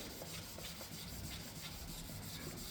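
A scratched car headlight is rubbed down by hand, giving a faint, continuous gritty sanding hiss with slight strokes swelling and fading underneath a steady noise floor.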